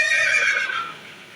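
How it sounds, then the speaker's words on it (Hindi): A horse neighs loudly and close up in a museum display depicting Maharana Pratap's horse Chetak at Haldighati, one drawn-out whinny that fades after about a second, with no talk. "ये जो दृश्य है महाराणा प्रताप और उनके घोड़े जो चेतक हैं उनके बीच संवाद का दृश्य है"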